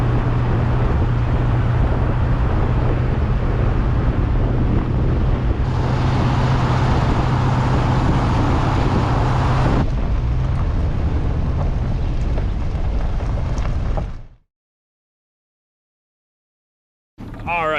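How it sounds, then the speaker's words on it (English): A truck hauls a heavy header trailer along a road, a steady loud engine drone with tire and wind roar that shifts tone midway, then cuts to silence near the end before briefly resuming. "I'm gonna head home pretty slowly with this heavy header trailer"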